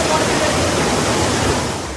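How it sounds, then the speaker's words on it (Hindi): Floodwater surging through the streets of Mecca after heavy rain, strong enough to carry cars along, heard as a dense continuous roar of rushing water that stays loud throughout before easing slightly at the end. "पानी का फ्लो इतना ज्यादा है कि गाड़ियां भी बहने लगी।"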